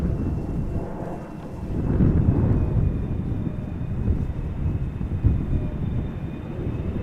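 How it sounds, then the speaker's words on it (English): Boeing 777-300 in SkyTeam livery arriving at Amsterdam Schiphol from Lima: a distant low jet roar rumbling steadily, mixed with wind buffeting on the microphone. "next up is that 777-300 arriving from Lima. Sky Team livery. Almost in the air now for half a day"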